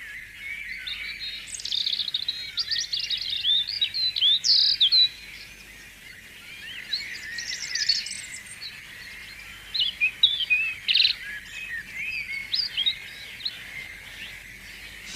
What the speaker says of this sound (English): Half a dozen male robins are singing defiance at each other from the safety of the yew bushes.